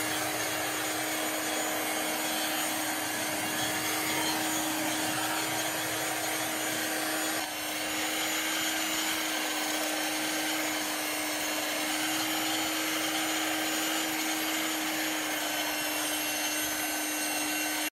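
Black+Decker Powerseries 16V MAX cordless stick vacuum running steadily on carpet, a close, continuous motor whine with a strong constant tone and broad airy hiss, one brief dip midway, no talk.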